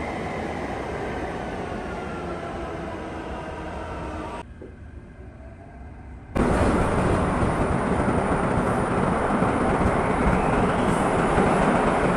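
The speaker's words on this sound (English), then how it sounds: "I guess you can hear the sound of the train." A loud, steady roar of a metro train rushing past nearby in Istanbul, with broadband rumble and wind noise, dipping briefly before surging louder again.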